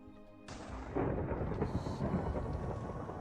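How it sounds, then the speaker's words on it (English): A Minecraft lightning strike booms suddenly after a quiet moment, then rolls on as loud, crackling thunder that rumbles steadily to the end. "you guys should have at least heard the Minecraft lightning sound there"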